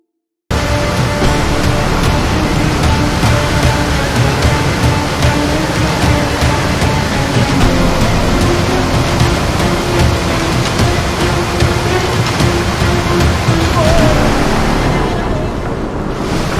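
A ship sinking beneath ocean waves in the VR tabletop game Table of Tales, a loud, steady roar of surging water and wind that holds for a long stretch before easing slightly at the end.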